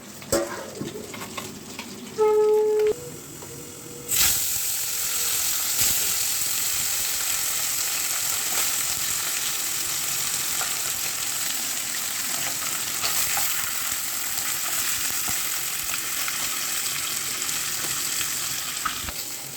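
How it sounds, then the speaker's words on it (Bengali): Bottle gourd curry with green chillies sizzles loudly in a pan after a few brief metallic clinks, then a dense, steady frying hiss continues close by as it is stirred, with no voices. "এবার এটাকে ভালো করে নাড়িয়ে আমি আবার ঢাকা দিয়ে দেবো।"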